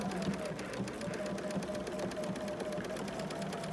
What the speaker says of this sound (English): I'm using my golden foot for full motion quilting